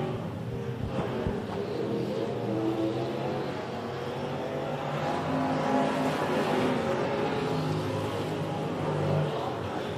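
Race cars roar together around the oval at Big O Speedway as a race ends under the checkered flag, a steady loud engine drone with rising and falling revs, plus faint crowd and announcer voices in the background.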